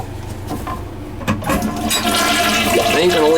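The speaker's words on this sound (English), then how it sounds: "We'll flush it a couple of more times and I don't see it leaking." A household toilet flushes after its wax gasket has been replaced, water rushing loudly and steadily up close, then swirling and refilling as the tank drains, with a bit of background movement.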